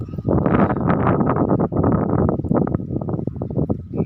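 Strong wind gusts across an open field, buffeting the microphone with loud, continuous roaring rumble and flutter that rises and dips over a few seconds, with no talk.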